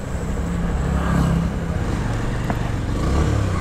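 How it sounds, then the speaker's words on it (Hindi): A 2022 Bajaj Avenger Street 160 BS6 motorcycle engine runs close by while nearly out of petrol, a low, throbbing exhaust note with uneven pulses and slight surges in loudness. "तो बाइक मिसिंग मारना स्टार्ट हो चुका है, मतलब पेट्रोल जो है वो पूरा ख़त्म होने ही वाला है।"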